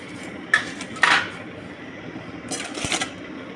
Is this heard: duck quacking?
no